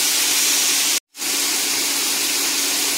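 Potatoes frying in hot oil for Bengali alur bhujia, a loud steady sizzling hiss that drops out abruptly for an instant and then resumes at full strength.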